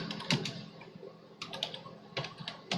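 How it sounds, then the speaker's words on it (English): Quiet clicking of keys typed on a computer keyboard, a few short bursts of rapid taps with brief pauses between, close and faint. "So we're going to type in Facebook"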